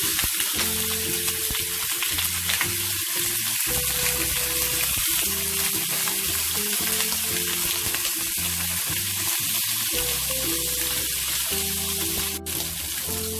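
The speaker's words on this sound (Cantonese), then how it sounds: "先煎一煎呢個排骨，" Pork ribs pan-frying in a wok for a Cantonese stew with hairy gourd, a steady dense sizzle and crackle running throughout under a low background drone, with no talking.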